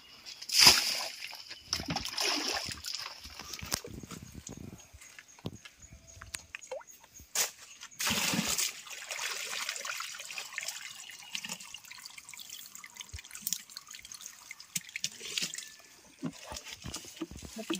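Spring water on a farm flowing and sloshing into a pool or channel nearby, with a few louder splashes breaking up a quieter, uneven trickle and stretches that are nearly still.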